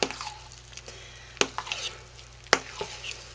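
Peppermint oil stirred into a bowl of homemade lye soap mixture: soft wet squishing and scraping with a couple of sharp utensil knocks against the bowl, close and quiet, no talking.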